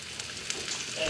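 Sliced vegetables, cut very thin, frying with garlic and a little sesame oil for spring rolls, giving a soft, steady sizzle that stays faint and even for a moment, with no talking over it.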